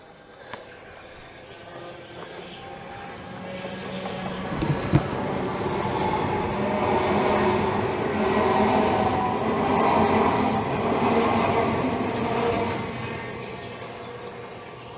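A train departs Rainham station with a low mechanical rumble and rising rail noise, building steadily and carrying on without talk.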